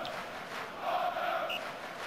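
Crowd chanting in the Amiga game Sensible World of Soccer during a Man City versus Man Utd match, a steady broad roar of massed voices with a swelling chant in the middle, continuous and fairly loud.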